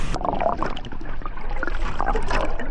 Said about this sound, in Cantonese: 呢度嘅水流咧係超級快